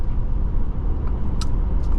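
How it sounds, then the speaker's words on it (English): A 2023 Audi Q5 Sportback cruising on the road, its steady low engine and tire rumble filling the cabin continuously with a couple of faint higher hisses passing briefly; no talking. "I've enjoyed driving this Audi."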